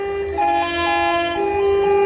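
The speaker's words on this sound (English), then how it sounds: "There it is. Train approaching." Train passing the Muckamore level crossing in Antrim, with a steady harmonic warning tone or horn and sustained rail rumble filling the whole stretch at close, fairly loud range.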